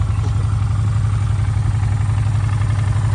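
Honda Shadow 400 Classic motorcycle with 43,000 km on it idling steadily up close, a loud, even low rumble with no voices over it.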